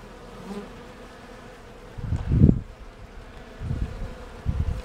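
Honeybees buzzing on hive frames during an autumn colony inspection, a low hum with louder swells as bees pass near, some close and some further off, with no voices.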